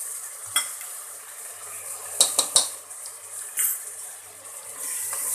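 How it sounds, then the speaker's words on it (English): A spoon stirring about two tablespoons of ginger garlic paste in a biryani pot for home-style mutton biryani, with soft sizzling frying throughout and a few sharp scrapes and clinks against the metal pot. "Stir it well"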